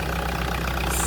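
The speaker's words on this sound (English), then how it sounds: "started the engine. This is the Sorento car engine" A Kia Sorento engine, fitted as a replacement into a Hyundai i800 van with a D4CB engine, idles steadily with a continuous low rumble for a brief moment, no voices.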